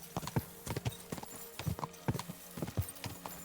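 Horse hooves clip-clop in a steady trotting rhythm in the medieval game Kingdom Come Deliverance 2, with close, crisp repeated strikes over a faint ambient bed and no voices.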